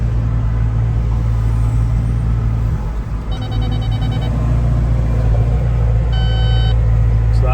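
New Cat 313 excavator digging, a loud steady diesel engine drone with deep rumble close to the microphone, dipping briefly mid-way as the bucket works, with faint whining hydraulic tones coming and going.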